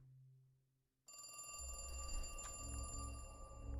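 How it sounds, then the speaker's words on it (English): A telephone rings inside a horror video game scene, with a sharp electronic ring starting abruptly after a low hum and continuing steadily over a dense, rumbling background. "No comment on the ringing phone."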